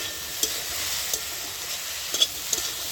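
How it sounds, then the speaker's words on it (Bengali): Spices and turmeric stirred in a sizzling frying pan for amrul greens chutney, a steady close frying hiss with a few light scrapes and taps of the spoon. "এইটা আমার ভালো করে নাড়াচাড়া হয়ে গেছে।"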